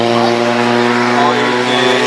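A 1925 Bugatti Type Brescia with a 1.5-litre engine runs at a hillclimb, a loud, steady, buzzy engine drone with strong harmonic tone, sustained without a break.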